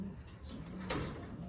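Racing pigeon cock birds coo softly in a loft, a low steady murmur of cooing with a brief rustle partway through, fairly faint and without talk.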